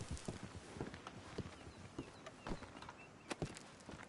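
Horse hooves clip-clop in Red Dead Redemption 2, a quiet, irregular run of hoof strikes on hard ground with no talk over it.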